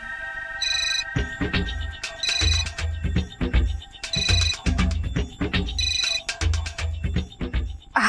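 A mobile phone rings with a repeating musical ringtone, loud and close, its melodic pattern cycling steadily through the whole stretch with no one answering and no voices.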